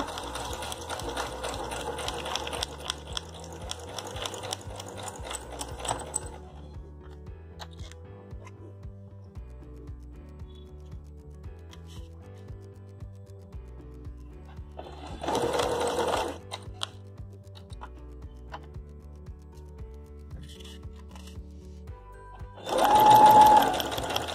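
Sewing machine stitching heavy potli beads onto a bridal saree using a screw presser foot, running in short bursts with pauses between, the motor whirring and needle ticking close by, louder near the end.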